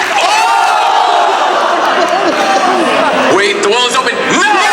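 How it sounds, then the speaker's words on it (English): Audience applause and cheering during a Tetris match at a gaming expo, a loud continuous crowd roar with whoops, heard under a commentator talking throughout. "You gotta give a round of applause to that."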